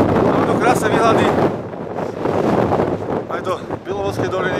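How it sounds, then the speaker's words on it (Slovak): Gusty wind on a Tatra mountain summit, a loud continuous roar buffeting the microphone that rises and falls in strength throughout. "Trochu nás tu trápi nerazový vietor."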